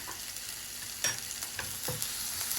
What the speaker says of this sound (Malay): Kita masukkan bawang putih.